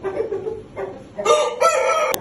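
A rooster crows at close range in a farmyard poultry setting, its strained, stretched call rising and holding, with a second bright crow following and a sharp click near the end.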